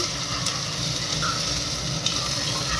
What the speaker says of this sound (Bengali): এটা ভেজে নেই ভালো করে।